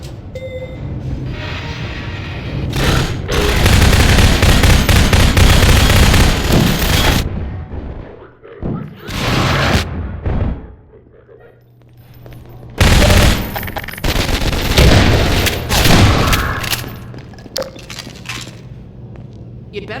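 Heavy gunfire in the video game Half-Life 2: long bursts of rapid automatic fire with booming blasts, loud and dense, broken by short pauses, with voices speaking in between.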